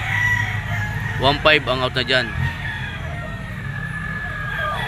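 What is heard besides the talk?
roosters crowing at a chicken market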